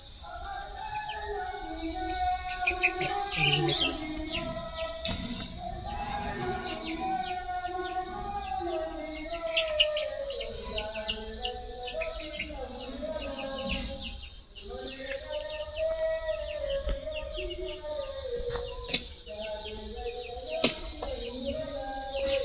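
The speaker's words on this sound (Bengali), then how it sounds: "এই যে 2টা লেয়ার মুরগির বাচ্চা।" Two layer hen chicks cheep continuously in high, rapid peeps close by, steady throughout with occasional louder chirps and a faint background hum.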